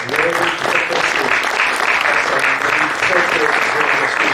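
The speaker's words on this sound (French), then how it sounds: "C'est gentil d'applaudir moi" Audience applause fills a hall during the launch of a town cycling plan at a cultural venue, steady dense clapping throughout with faint voices mixed in.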